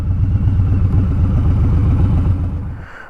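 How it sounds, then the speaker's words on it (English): Harley-Davidson Street Bob 114 fitted with an SP Concepts Lanesplitter exhaust, idling with a deep, loping rumble of uneven pulses, loud and close, fading away in the last half second. "Get you a look at the exhaust, sound of the exhaust, some idle, some revs, some drive-bys"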